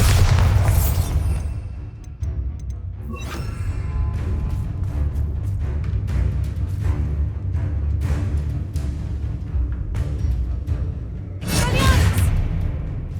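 Explosive blast from the Bombarda spell in Hogwarts Legacy, a loud opening boom followed by a steady rumbling roar and debris-like crackle, then a second sharp burst near the end; no voices.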